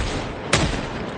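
A single shotgun blast goes off around the middle in the Project Zomboid game, a sharp burst that stands out against a steady bed of background noise.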